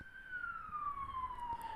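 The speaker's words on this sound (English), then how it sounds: "There's an ambulance passing by." An ambulance siren passes by, a single long descending wail heard at a moderate distance against faint road noise, with no talking.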